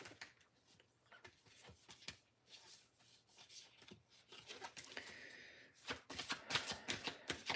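A deck of cards is shuffled during a psychic reading: soft, quick riffling and tapping bursts, faint and close, building into a busier, louder flurry near the end.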